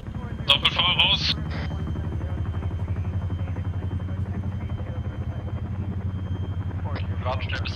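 Military helicopter in the combat game ArmA 3, its steady rotor thump and engine drone running loud and continuous throughout while voices talk over radio at the start and end.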